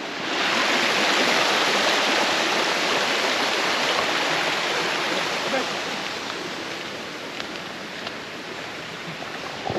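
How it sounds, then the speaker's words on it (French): A small river stream flows in a peaceful countryside setting, giving a steady, loud, broadband rushing wash that continues without a break and eases slightly toward the end. "tu vois juste des petites rivières"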